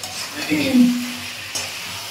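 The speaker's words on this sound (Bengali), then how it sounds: "এবার এটা নেড়ে চেড়ে ভালো করে নেড়ে চেড়ে নেব" Banana flower curry (mocha ghanto) being stirred in a pan, a short scraping swirl peaking mid-clip over a faint sizzle, then a second light touch near the end.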